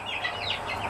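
Backyard coop chickens cluck and squawk agitatedly at close range, a brief continuous burst with no speech over it.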